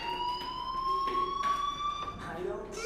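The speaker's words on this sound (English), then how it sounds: "do you hear that fire alarm? That means you should be outside." A school fire alarm from the video game Life is Strange rings continuously at a steady, fairly loud level, its electronic tone holding throughout while faint game sounds shift underneath.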